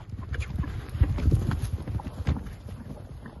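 A horse's hooves clip-clop in a quick, uneven rhythm on the ground, close and fairly loud, the beats running together in a lively trot-gallop with no talk over them.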